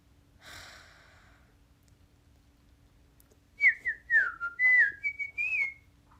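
A person whistles a short series of clear tones that slide downward, heard alone and close after a faint breathy sound.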